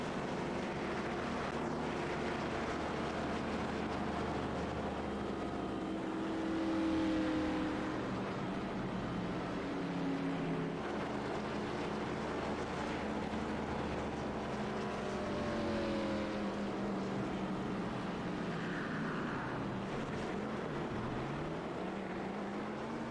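Race cars in iRacing at Nashville Fairgrounds Speedway build speed after a caution, a steady layered engine drone with rising and falling pitch sweeps from several cars, continuous and moderately loud throughout with no talk.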